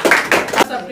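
An audience at an award distribution claps in a few quick, loud bursts, close and brief, with a voice faintly present.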